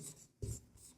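Chalk or marker writing on a classroom board, with short scratchy strokes in a quick rhythm, faint and close, with no speech.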